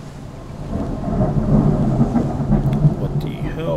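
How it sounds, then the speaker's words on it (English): A loud in-game thunderstorm from the strategy game Imperator Rome: Terra Indomita, with a steady wash of heavy rain and rolling rumbles of thunder, close and continuous with no voices over it. "That's quite the storm."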